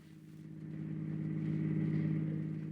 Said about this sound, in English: an automobile.